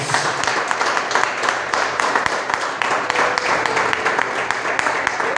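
A church congregation applauds in continuous rapid clapping that stays dense and even throughout, filling the room at moderate loudness.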